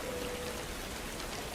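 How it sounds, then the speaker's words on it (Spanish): Steady rain falling, a dense even hiss of drops on surfaces, close and continuous throughout with no voices. "La lluvia continuaba cayendo, empapándolos a ambos."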